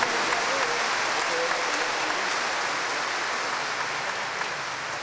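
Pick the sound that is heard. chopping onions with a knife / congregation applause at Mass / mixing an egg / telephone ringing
congregation applause at Mass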